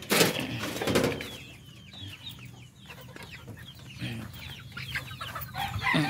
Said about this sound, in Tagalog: At punta tayo dito sa aking mga manok na Rhode Island.